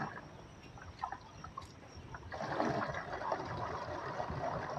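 Water pours into a sprayer container for weed killer, starting as a faint trickle with small splashes, then becoming a steadier, louder gushing stream.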